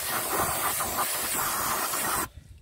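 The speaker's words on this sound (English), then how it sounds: "bit of brake clean" Brake cleaner aerosol sprays onto a front brake caliper of an Alfa 166 2.0 Twin Spark during a disc and pad change, a loud continuous hiss running steadily for about two seconds before cutting off abruptly.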